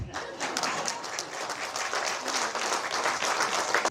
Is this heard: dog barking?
no